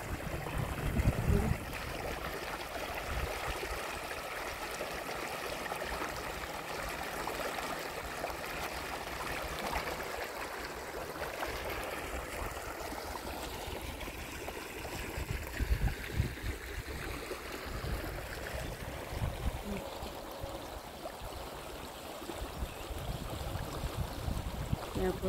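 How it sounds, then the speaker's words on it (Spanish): Water running across a field to irrigate farmland being prepared for planting, a steady outdoor rushing and trickling flow heard continuously at moderate level. "Está corriendo el agua, que ya le echaron agua pues para regar el terreno"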